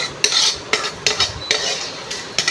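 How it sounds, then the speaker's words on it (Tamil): Tamarind roasting in a pan for Mangalore chicken sukka, with a spoon scraping and clinking against the metal in repeated strokes over a soft, steady sizzle and no voices. "புளியை போட்டு நல்லா வறுத்துட்டு"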